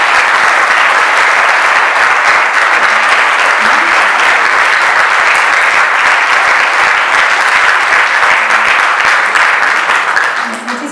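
Strong, sustained applause from the audience at an inclusion awards gala, a thick, even roar of clapping lasting about eleven seconds before tapering slightly at the end, with faint voices underneath.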